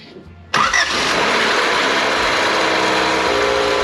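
A 1988 Honda CRX Si engine, fitted with a new distributor, cranks and catches abruptly after a quiet moment, then settles into a loud, steady running roar that fills the rest of the clip.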